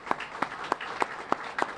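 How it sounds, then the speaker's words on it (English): An audience gives a short, soft round of applause at an airline press event in Rhode Island, about half a dozen evenly spaced claps heard from a distance. "So round of applause for all of these folks."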